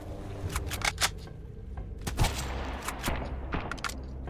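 Rapid bursts of shotgun fire in the survival game Sunkenland, a dense string of sharp cracking shots in quick succession, loud and close with no talk.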